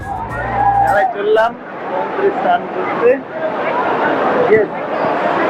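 Busy crowd on a Puri beach: steady murmur of many voices with a person talking close over the background hubbub throughout.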